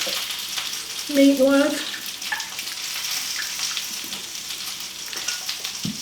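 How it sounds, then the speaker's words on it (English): Beef broth poured around the sides of a meatloaf in a crockpot, making a steady, gentle trickle and splash. A voice speaks briefly over the sound. "I'm going to add my beef broth around the side of my"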